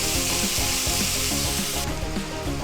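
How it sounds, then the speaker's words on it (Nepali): Tomatoes fry in a pan for Nepali-style chicken choila, giving a loud, continuous close-up sizzle with crackling pops throughout. "अब यसलाई चाहिँ म टमाटर पाकुन्जेलसम्म एकछिन पकाउँछु।"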